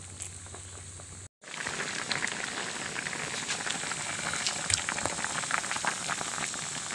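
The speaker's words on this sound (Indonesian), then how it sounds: "sudah mendidih, sudah seperti ini dia ya" Lupis pandan rice cakes boil in a pot, a steady close bubbling and gurgling hiss with popping bursts that continues without talk after a brief cut near the start.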